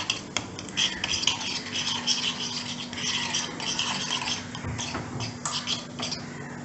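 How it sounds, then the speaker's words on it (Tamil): Cashew nuts are stirred in hot ghee in a small tempering ladle for carrot kheer. Close, continuous scraping and rustling goes on throughout, with a faint steady hum beneath and no talking. "இதில் வந்து நம்ம சாப் பண்ண cashew nuts சேர்த்துக்கலாம். சேர்த்துட்டு ஜஸ்ட்டு லைட்டாக கலர் மாறுற வரைக்கும் மிக்ஸ் பண்ணிவிட்டு"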